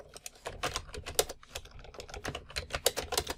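Quick, uneven typing on a computer keyboard, close and fairly quiet, with clustered keystrokes and short pauses and no voices.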